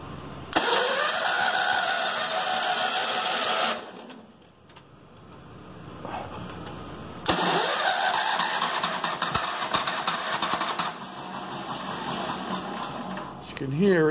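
Old John Deere engine, finicky and low on compression, cranking and catching, running roughly for a few seconds, dying, then firing up again and running before fading; loud and close.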